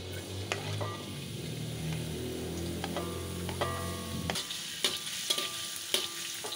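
Garlic fries in hot oil for mamak mee goreng, a steady close sizzle with scattered metallic clinks and scrapes of stirring in the pan, and no talking.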